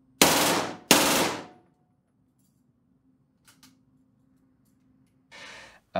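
A MAC-10 submachine gun fires two sharp, loud bursts in quick succession, each ringing off into a quiet room, followed by faint clicks and a final burst near the end.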